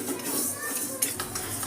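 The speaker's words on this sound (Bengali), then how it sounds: "প্রথমে আমি ডাল দুটোকে একটু শুকনো করে ভালো করে নেড়ে নেবো।" Mung and masoor dal being dry-stirred in a hot wok, light scraping of a spatula against metal with small clinks and a dry rustle of lentils, close by.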